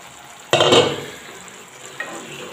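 Masala and cauliflower fry in oil for a cauliflower roast, a sudden loud sizzling burst as the pan is stirred, fading quickly, then a smaller scrape near the end, with no talking.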